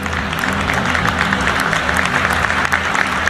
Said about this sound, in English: The smart people are clapping.